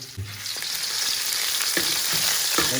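Garlic and ginger fry in a hot pan with a steady, bright sizzle, punctuated by a few soft stirring knocks.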